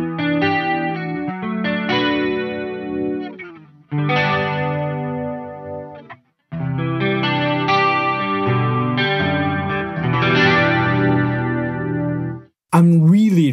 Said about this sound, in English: Let's feed it with a little bit of overdrive.